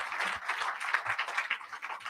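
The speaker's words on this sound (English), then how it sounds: "Round of applause for the Honorable Minister" Faint, brief scattered clapping from an audience at a youth pitch competition, applauding the Minister of Finance, with no talk over it.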